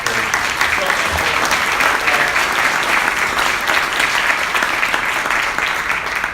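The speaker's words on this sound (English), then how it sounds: "Let's give the panel a round of applause." At the AMD Ryzen Pro launch event in New York in 2017, an audience applauds a panel. The clapping is loud and unbroken, staying at an even level throughout.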